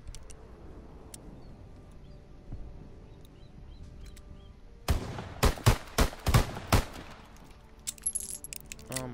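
A WWII-era pistol fires in Call of Duty: WWII, about six sharp, loud shots in quick succession after a quiet stretch of soft background game ambience.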